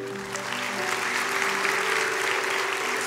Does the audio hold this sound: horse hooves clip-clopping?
no